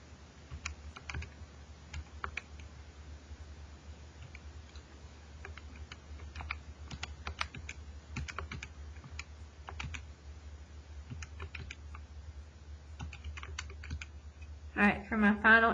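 Soft, irregular clicking of buttons being pressed one after another, quiet and close, with a brief louder sound near the end.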